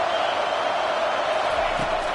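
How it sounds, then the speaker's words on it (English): A football stadium crowd roars in a steady, loud, unbroken wash of noise, with no distinct cheers or claps standing out. "This crowd bringing the energy and noise early."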